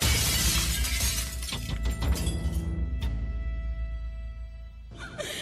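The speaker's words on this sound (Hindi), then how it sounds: "मेरे से शीशा टूटा था।" Glass shatters in a loud crash with scattered tinkling fragments, followed by a few more clinks and a long ringing tail, then a fresh burst of noise near the end.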